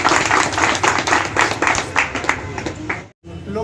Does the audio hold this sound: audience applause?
yes